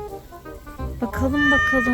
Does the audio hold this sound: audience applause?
no